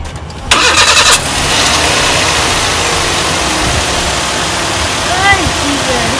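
A car engine cranks with a brief whirring starter burst, catches, and settles into a steady idle, loud and close, with a voice briefly heard nearby.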